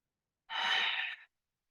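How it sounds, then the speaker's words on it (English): A single slow ocean breath during yoga practice, a close, soft breathy rush of air lasting under a second, alone against silence. "So we'll take one last ocean breath."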